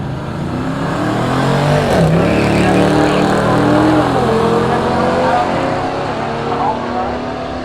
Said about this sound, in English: Both quick cars.